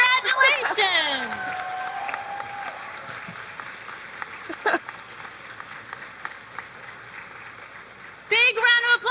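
Applause and cheering from a crowd at a cosplay contest as the winner is announced, with steady clapping, whoops and voices calling out over a sustained, loud roar of hands.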